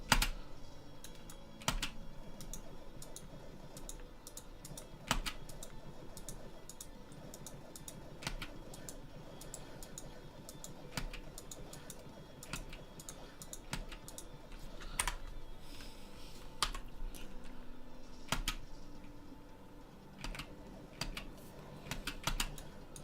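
Continuous typing on a computer keyboard with irregular clicking keystrokes, fairly close and steady for the whole stretch, with no talking.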